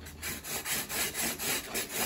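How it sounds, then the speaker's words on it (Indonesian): Steady back-and-forth strokes of sandpaper on styrofoam, about eight rhythmic rasping passes, close and fairly loud, with no voices. "Kemudian amplas seperti ini,"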